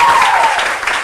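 An audience on a Brazilian TV program applauds as a guest is welcomed, a brief, loud wash of clapping that fills the moment without a break.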